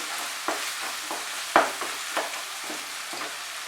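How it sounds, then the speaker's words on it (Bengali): Onions frying to golden brown in a pan for Bengali mutton kosha, with a soft continuous sizzle and a rhythmic stirring scrape about twice a second, one louder knock near the middle. "পেঁয়াজটাকে কিন্তু গোল্ডেন ব্রাউন করে ভেজে নিতে হবে।"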